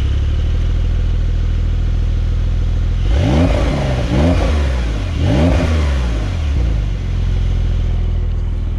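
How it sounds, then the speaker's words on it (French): A Porsche 992 Carrera S idles, then revs sharply several times with its exhaust valves open in Sport Plus, each rise and fall clearly spaced, before it settles back to a steady idle. The sound is loud and close, with no voices. "on sent les valves qui s'ouvrent, ça fait un peu plus de bruit, mais après ça reste un moteur turbo"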